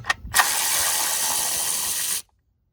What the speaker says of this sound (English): go ahead and get you a 10 millimeter and loosen up all those bolts